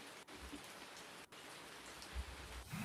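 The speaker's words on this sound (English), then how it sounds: "There's one that's just rain. Is it literally just rain?" Recorded rain plays from a music library, a dense, steady patter of raindrops on surfaces at low volume, with a couple of brief dropouts and a soft low rumble near the end.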